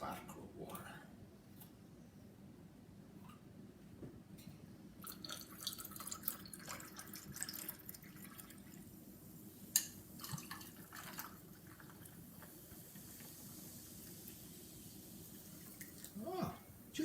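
Sparkling water pouring and fizzing steadily into a mojito with faint drips, a quiet voice murmuring now and then over the bubbly hiss.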